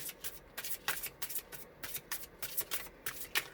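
Tarot cards shuffled by hand in quick repeated riffles and slides, close and crisp, with brief pauses between bursts and no talking.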